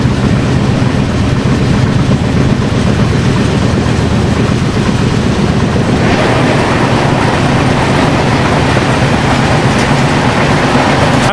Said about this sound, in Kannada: ಅದು ಟ್ರೈನ್ ಬರ್ತಿದ್ಯಾ